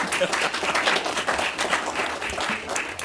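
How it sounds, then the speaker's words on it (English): A live-streamed audience in Villa Rica gives another round of applause as a woman comes up, a dense, steady patter of many hands clapping at close range for a few seconds. "Y'all give her another round of applause while she comes up."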